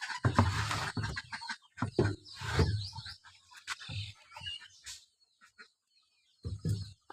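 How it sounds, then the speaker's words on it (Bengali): Farmyard chickens and ducks cluck and squawk close by in a burst of overlapping calls, then fall quieter with scattered single clucks and a short silence before a few more calls near the end. "অনেকগুলো আমাদের হাঁস মুরগি"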